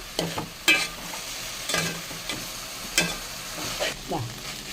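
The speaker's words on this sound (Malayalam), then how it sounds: "പതുക്കെ ഇളക്കി കൊടുക്കാം" Eggplant and okra sizzle in a pan over a low flame while a spatula scrapes and stirs in short, irregular strokes about once a second.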